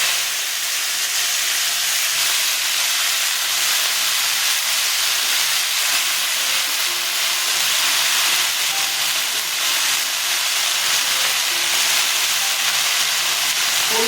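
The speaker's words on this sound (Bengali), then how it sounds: "শুকনো লঙ্কা তেজপাতা ফোড়নে দিয়ে দিলাম মেথি দিলাম শাকগুলো ছেড়ে দিচ্ছি" Mixed leafy greens dropped into hot oil tempered with dried red chillies, bay leaves and fenugreek seeds, giving a loud, steady hissing sizzle that stays constant throughout.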